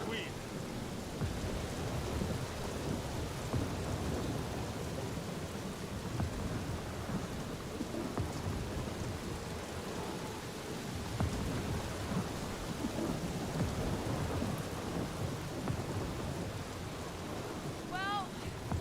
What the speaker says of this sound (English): Well, at least the storm's not quite as bad as it was.